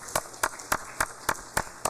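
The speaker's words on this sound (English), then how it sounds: "Let's give them a round of applause" A round of applause during a legislative session, heard as seven sharp, evenly spaced hand claps in a steady rhythm, close and distinct against a quiet room.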